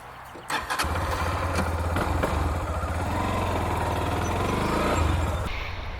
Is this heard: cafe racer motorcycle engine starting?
yes